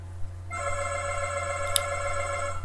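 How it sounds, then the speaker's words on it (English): A telephone rings in the background of a quiet room, a steady electronic trill that starts after a brief pause and holds for a couple of seconds, faint and alone. "Sorry about the phone ringing in the background"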